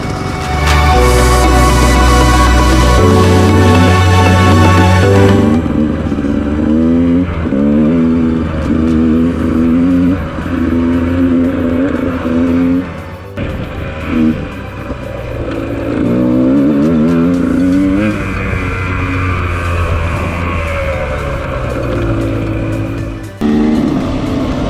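A motorbike engine on an off-road ride through the Baviaans hills revs up close and loud, its pitch rising and falling in repeated surges over a steady running drone.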